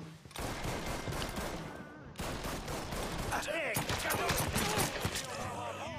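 Rapid gunfire crackles in the Mafia 3 video game, a dense run of overlapping shots with a short gap near the two-second mark before more bursts continue, loud and busy throughout.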